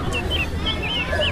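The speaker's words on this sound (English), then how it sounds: "H for hen." A hen clucking, with short repeated chirpy calls over a noisy background, close and brief.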